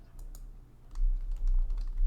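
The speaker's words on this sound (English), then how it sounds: "I just pressed some arrow keys and that popped up." Arrow keys pressed on a computer keyboard, a few soft, quick clicks and taps scattered over two seconds, close and quiet over a low background rumble.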